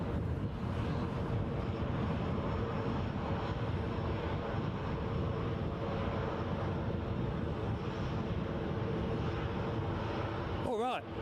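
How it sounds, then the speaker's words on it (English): British Airways Embraer 190 jet heading to London City, heard as a steady broadband engine roar at an airport, sustained and fairly near for the whole stretch with a brief whine at the end. "British Airways Embraer 190 standard on its way back to London City."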